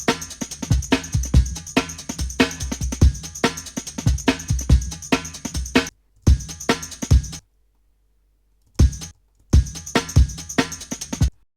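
Drum break looped in Ableton Live: punchy kicks, snares and bright hi-hats in a fast, steady groove that stops and restarts in short bursts with gaps of silence.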